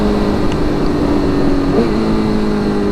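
A motorcycle running a Brent Tuning flash pulls hard on a cold-weather first ride of 2024, its engine giving a loud, sustained high-revving roar with a slight pitch swell as it rips along.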